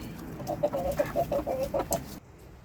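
Backyard homestead chickens cluck in a quick series of short, repeated calls, fairly close, then fall quiet near the end.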